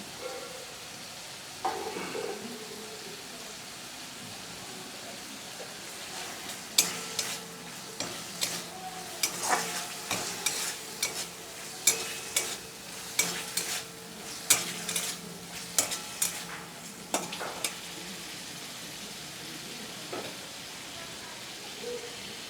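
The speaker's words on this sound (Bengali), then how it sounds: "চিংড়ি মাছগুলো ভাজাও হয়ে যাবে, কিন্তু চিংড়ি মাছগুলো শক্ত হবে না।" Prawns fry quietly in a pan with a soft steady sizzle, punctuated by repeated scraping and clinking of a spatula as they are stirred, moderately close.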